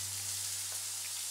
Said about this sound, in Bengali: আলুগুলো একটু ভাজা ভাজা হোক